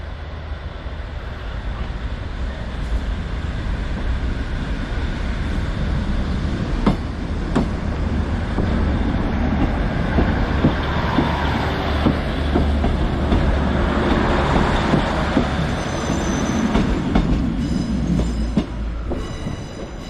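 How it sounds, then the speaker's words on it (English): A local train to Ormskirk pulls out of Preston station, a loud, steady rumble of wheels and rolling stock close by, with occasional sharp clicks and faint high squeals as it draws away. "the Ormskirk train is ready to leave"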